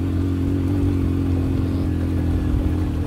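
Motorcycle engine running steadily with a constant low drone and light clatter while riding a mountain road near Kharpocho Fort in Skardu, loud and close throughout.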